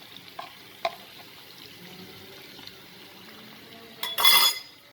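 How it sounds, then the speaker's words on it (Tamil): Sardines shallow-frying in coconut oil for a spicy Bengali-style fish fry give a faint, low crackle with a few soft clinks, then a loud burst of sizzling flares up near the end. "ரெண்டு சைடுமே ஃப்ரை ஆகிடுச்சு."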